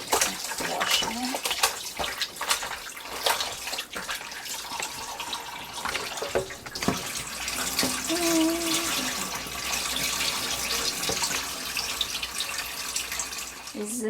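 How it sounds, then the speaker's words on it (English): Tap water runs and splashes in a sink while beef is washed by hand for Guyanese pepperpot, a continuous rushing hiss broken by sloshing and clattering handling noises. "to wash the beef"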